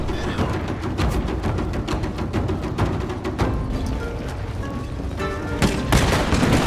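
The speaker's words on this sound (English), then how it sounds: "My opponent opens fire with his matchlock samurai" Matchlock musket volleys from samurai ranks on a Total War Shogun 2 battlefield, a dense crackle of many overlapping shots with scattered louder pops, sustained and rumbling at a moderate distance.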